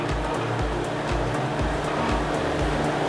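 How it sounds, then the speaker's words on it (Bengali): Mutton biryani is stirred and mixed in a large restaurant pot with a steady rhythm of heavy, low strokes about twice a second, over a constant loud roar. "ভালো করে নেড়ে মিশিয়ে নেওয়া হচ্ছে।"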